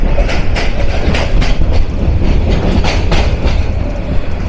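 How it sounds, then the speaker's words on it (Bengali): The Mohua commuter train rumbles loudly along the rails toward Tongi railway junction at night, its wheels clicking in a steady rhythmic clatter over a deep continuous roar. "টঙ্গী রেলওয়ে জাংশনের দিকে ছুটে চলছে আমাদের মহুয়া কমিউটার"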